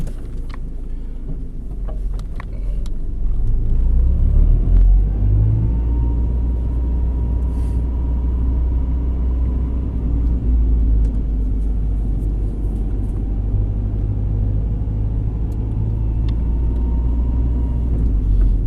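A Toyota Tacoma with an aftermarket exhaust drives slowly toward a parking space over speed bumps, giving a steady, low, close engine rumble that swells slightly after the first few seconds and holds even throughout.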